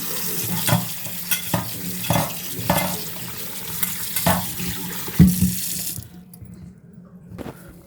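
Ridge gourd is washed by hand under a running kitchen tap, with water splashing and swishing for about six seconds, broken by louder slaps and handling knocks, before the flow stops and only a faint tap remains.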